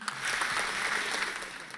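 An audience applauds the composer of a Nepali folk tune, a short, dense burst of clapping that holds steady and then tapers slightly.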